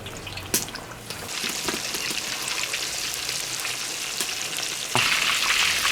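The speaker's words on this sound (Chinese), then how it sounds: "油温热了，我们把这个茄子放下去炸" Eggplant deep-fries in hot oil in a wok, a steady crackling sizzle throughout with scattered sharp pops and spatters, close and fairly loud.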